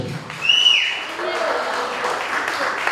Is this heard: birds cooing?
no